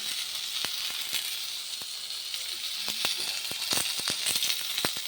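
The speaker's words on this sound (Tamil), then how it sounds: "இப்போ நல்லா இப்போ எண்ணெயில் வதக்கிக்கலாம்" Onion and tomato sautéing in hot oil in a pan, a steady bright sizzle with scattered sharp pops and crackles, close and alone, with no talking.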